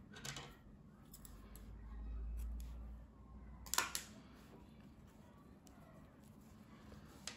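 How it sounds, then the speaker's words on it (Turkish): A single crisp snip of scissors cutting knitting yarn after finishing a bolero cardigan sleeve, close and quiet over a low room hum, with a few faint handling clicks around it. "İpliği kesiyorum."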